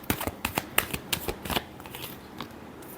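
Tarot cards riffle and snap together in quick bursts of crisp shuffling, a cluster of sharp papery clicks followed by a softer tail, close and alone without voices.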